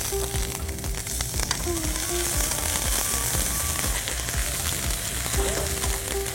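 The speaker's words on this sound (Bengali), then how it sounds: "এখন আমি দিব হচ্ছে 2টা রূপচাঁদার জন্য আমি 2 চামচ পেঁয়াজ" Chopped onions frying in hot oil for a rupchanda (pomfret) dish, a loud, close, continuous sizzle with crackling and spattering throughout, no voices.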